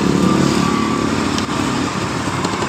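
A Honda Beat CVT scooter idles close by with its rear wheel spinning, a loud steady engine drone with a rattling, clattering texture throughout and no voices.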